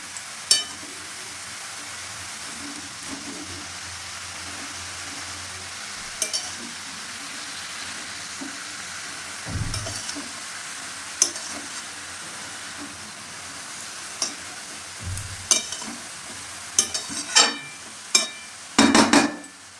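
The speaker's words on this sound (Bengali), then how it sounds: "ঢাকাটা খুলে 3 থেকে 4 মিনিট পর আমি আবার কপিটা নেড়ে দিলাম।" Cabbage and prawns frying in a pan are stirred with a spatula: a soft continuous sizzle is broken by scraping and metallic clinks that grow sharper and more frequent toward the end, close by and with no speech.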